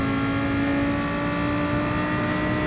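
A Lamborghini engine in Gran Turismo Sport holds a loud, steady, tonal drone while the car is driven, continuous and close with no voices.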